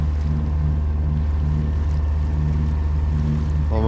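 A sailboat motoring across Gatun Lake in the Panama Canal, with a steady, loud engine drone and water rushing along the hull throughout.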